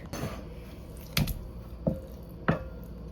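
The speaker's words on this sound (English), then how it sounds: "I'm gonna cube my tofu up real quick" A knife cuts tofu on a board, giving a soft first cut followed by three sharp, separate chops at an uneven pace, close up with no talking.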